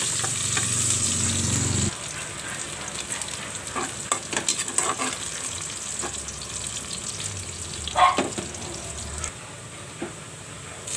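Minced garlic and onion fry in a pan for ginisang monggo with alugbati, a steady close sizzle with occasional stirring scrapes and clinks; the sizzle is loudest in the first two seconds, then settles lower.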